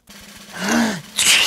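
A cartoon character in a children's animated series sneezes once: a brief rising inhale, then a sharp, loud burst, heard on its own with no talking.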